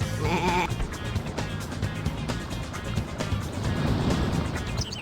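Sheep bleating in Looney Tunes: Sheep Raider, a short wavering bleat near the start over a dense, busy game soundscape with steady background noise.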